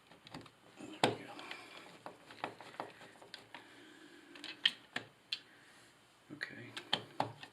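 A bathroom fan switch is screwed into place, with scattered close clicks, scrapes and ratcheting taps of a screwdriver and plastic parts, quiet and intermittent, mixed with faint handling noise.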